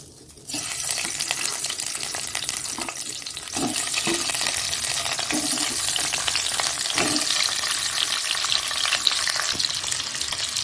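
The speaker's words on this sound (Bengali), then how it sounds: "তেলটা গরম হয়ে গেছে ডিমগুলো দিয়ে দিচ্ছি" Eggs are added to hot oil in a pan already holding potatoes and eggs, setting off a steady, close sizzle and crackle that grows louder after a few seconds and runs on without pause. Faint stirring clinks can be heard.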